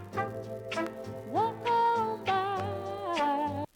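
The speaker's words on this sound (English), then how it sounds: "when I turn this on, you're gonna hear some vinyl cracking." An oldies-style music sample run through a vinyl crackle plug-in, with warm sustained tones and shifting chords over a low bass note, playing steadily for a few seconds before cutting off abruptly.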